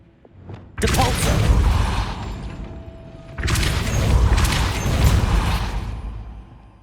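Depulso spell effects in Hogwarts Legacy: two loud booming magical blasts, each swelling into a long rumbling, whooshing burst that lasts a couple of seconds.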